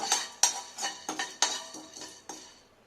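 Whole spices dry roasting in a pan over a slow flame for garam masala, with a spoon or spatula scraping and clinking against the metal in about eight quick rhythmic strokes, close and alone.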